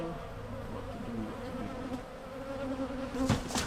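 Honey bees swarm and buzz during a bee removal, a dense, continuous drone of many wings close by, swelling a little louder near the end with a brief scraping knock.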